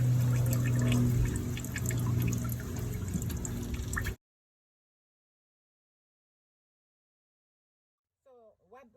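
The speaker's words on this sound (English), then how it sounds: "we're gonna put a little oil in there so it helps flush out the gas" Oil being poured into a car engine during a flush after an oil change, a steady liquid pour heard up close for a few seconds before the clip drops to silence, with a brief voice at the end.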